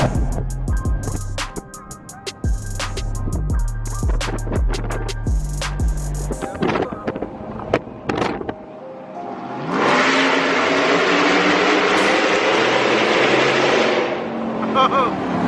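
A leveled Chevrolet Silverado truck with American Racing headers pops and crackles in sharp bursts, then revs hard into a loud, sustained roar echoing under a bridge.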